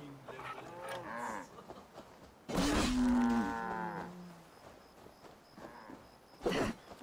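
A cow in the video game Assassin's Creed Valhalla lets out one loud, drawn-out moo midway, with quieter low sounds before and after and a short burst near the end.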